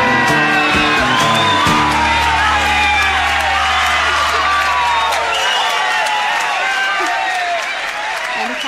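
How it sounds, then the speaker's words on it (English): A live concert crowd roars with applause, whoops and shouts at the end of a song, loud and dense, while music fades beneath the cheering. "And the crowd goes wild."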